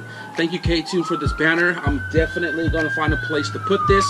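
Emergency vehicle siren wailing outside, a loud rising and falling tone running throughout beneath a person speaking close by.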